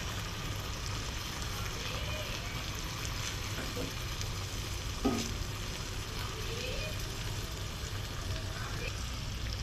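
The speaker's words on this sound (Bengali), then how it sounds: "এজন্য একটু উল্টিয়ে পাল্টিয়ে দেব মাছটাকে।" Pabda fish cooking in mustard masala sizzles steadily in a pan as it is flipped and turned, a continuous frying hiss with a brief clatter midway, no talking.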